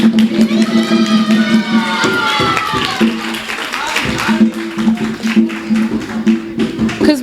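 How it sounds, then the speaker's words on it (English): A dinner crowd honouring kids claps and cheers loudly, with whoops and rising shouts layered over a steady hum and dense hand claps, close and continuous throughout. "everyone please stand up and give them a huge round of applause"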